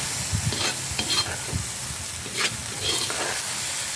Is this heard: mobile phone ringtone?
no